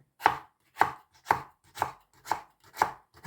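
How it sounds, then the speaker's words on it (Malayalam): A knife chops fresh green tomatoes on a board in six evenly spaced, crisp thuds, close and clear with no talking, while preparing a thoran with dried prawns. "പച്ച തക്കാളി നല്ല ഫ്രഷ് സാധനമാണ് കേട്ടോ അതാണ് നമ്മൾ അരിഞ്ഞെടുത്തുകൊണ്ടിരിക്കുന്നത് കണ്ടോ"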